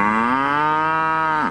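A single cow on a Texas farm gives a loud, close, sustained moo that holds steady and then drops off sharply at the end, with no talk.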